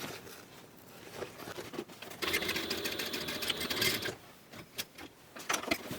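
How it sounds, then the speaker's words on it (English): A sewing machine backstitches over a bulky seam on a fabric book bag: a short burst of rapid, steady stitching in the middle, with quieter handling rustles and clicks before and after. "I'm gonna just backstitch a little bit over there"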